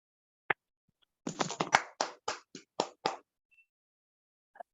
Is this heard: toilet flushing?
no